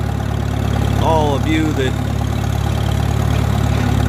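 An antique Farmall tractor engine idles with a steady low chugging throb. Someone speaks over it briefly.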